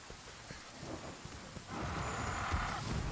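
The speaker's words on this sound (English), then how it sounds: "it is pouring right now" Heavy rain pours down in a PS4 video game, a dense steady hiss with low rumbling that swells louder partway through and keeps going without any talk.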